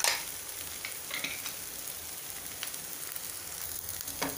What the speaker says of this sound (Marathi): हे छान या मसाल्यात सगळे मसाले मिक्स करून घ्यायचे आणि फक्त 30 सेकंद भाजून घ्यायचे आहेत